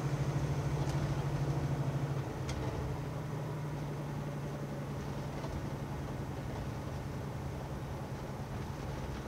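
A 1965 Chevrolet Malibu SS with a Muncie four-speed climbs a hill in second gear. A steady engine drone holds under light wind-like noise, and the tone shifts slightly after a couple of seconds.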